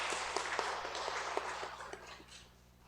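A church congregation applauds during a Sunday worship service, a dense patter of many hands clapping steadily for nearly three seconds before thinning out at the end.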